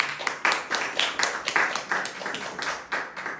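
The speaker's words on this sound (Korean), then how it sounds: "우리 박수 한번 쳐주세요" A church congregation claps for a young child, a short run of distinct, fairly close hand claps in an uneven rhythm from a small group, with no one speaking over it.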